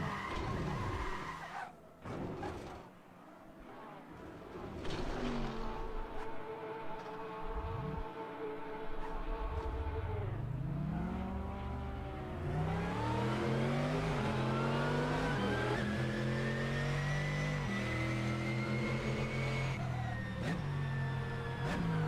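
Race cars in a sim racing game at the Hungaroring accelerate into turn 1, with several engine notes climbing and overlapping in sweeping pitch rises, loud and continuous, no talk.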